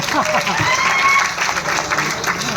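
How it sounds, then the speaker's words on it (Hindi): An audience at a motivational training seminar bursts into loud, sustained clapping that carries steadily through the whole stretch, with a few voices mixed in. "जोरदार ताली हो जा सर के लिए"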